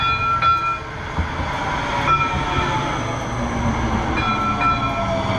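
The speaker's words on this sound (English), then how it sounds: "We head to the eastbound platform, where another train arrives." A two-car Silicon Valley light rail train pulls into an eastbound platform, with a rumbling rolling drone, metallic squeals and a brief high tone, heard close with no talking.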